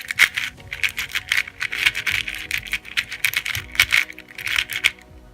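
Rapid, irregular plastic clicks and clacks from an old-plastic Dayan 2x2 puzzle cube being turned by hand, fairly close and continuous with no talking.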